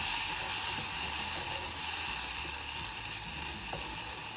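Toasted fideo noodles stirred with tomato sauce in a pan, giving a steady hissing sizzle with steam that holds constant throughout, no talking over it.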